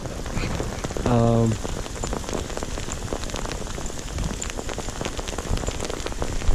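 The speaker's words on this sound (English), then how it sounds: "I'm stuck in a hailstorm." Hail and rain pelting down steadily at a mountain campsite in the Markha Valley, Ladakh, a dense continuous patter close around, with a brief tonal sound near the start and no clear speech.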